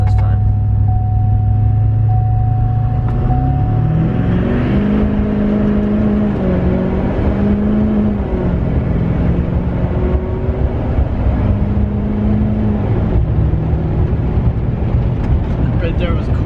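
A tuned Duramax diesel truck accelerates hard from inside the cab, a loud, steady engine roar with rising, stepping tones as it pulls through gears, voices talking over it.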